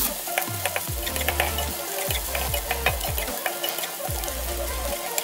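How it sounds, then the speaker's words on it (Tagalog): Tomatoes sautéing with onion and garlic in a pan for a Filipino pork and tomato dish, giving a steady close sizzle and frying crackle with repeated stirring scrapes and clinks throughout. "pwede na natin igisa ang ating kamatis"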